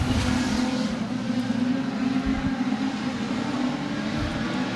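Production sedan race cars roar around a circuit in a close pack, engines droning loud and continuous with gear-change dips and shifting pitch as they run through a corner together.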